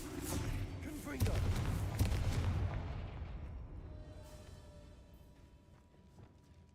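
Spell blasts in Hogwarts Legacy, the Confringo fire curse, bursting as loud booming explosions in the first two seconds, then rumbling and fading away over a few more.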